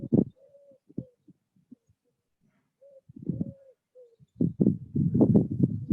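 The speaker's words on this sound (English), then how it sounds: "Focusing on the bird song." Soft cooing bird calls, a few short repeated notes, then a denser burst of chirping and calls toward the end, fairly close.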